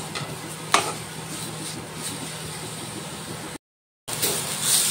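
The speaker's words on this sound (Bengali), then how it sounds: "এবার আমি গাজরগুলো ভালো করে ঘিয়ের সাথে ভেজে নেব" Carrots frying in ghee in a pan for a carrot pie, a steady close sizzle with soft stirring scrapes and one sharp clink, briefly cut to silence before the hiss returns louder.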